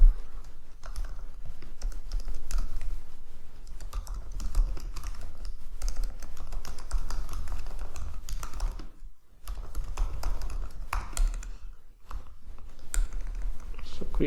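Continuous close typing on a computer keyboard while writing a readme file for code, a dense stream of quick key clicks with two brief pauses, no speech.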